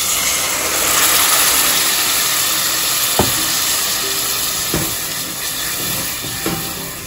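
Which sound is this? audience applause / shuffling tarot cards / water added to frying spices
water added to frying spices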